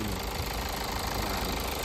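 A 2.0-litre diesel engine in an affordable crossover 4x4 idles steadily up close, a continuous even clatter with a faint rhythmic knock running through the whole stretch, no talk over it.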